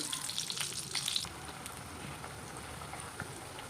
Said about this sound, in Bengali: হালকা তেল গরম যখন থাকবে এটাকে এইভাবে ভাজতে হবে